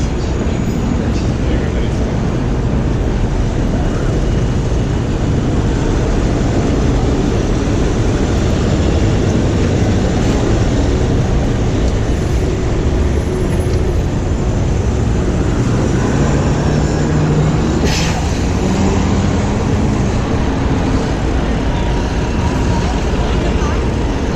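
New York City street traffic including a taxi, heard from a bicycle on a ride from Central Park to Wall Street: a loud, constant roar of engines and wind with faint horn-like tones throughout.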